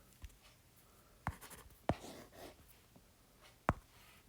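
Pen or marker strokes on a board during a lecture, three or four sharp, isolated scratches spaced a second or so apart against a quiet room, close and fairly faint.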